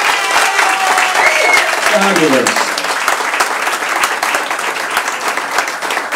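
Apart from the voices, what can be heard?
audience applause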